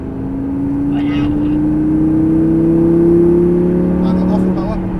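Lamborghini LP560 Superleggera accelerating hard, a steady engine note climbing in pitch over several seconds at close range, with a voice talking over it.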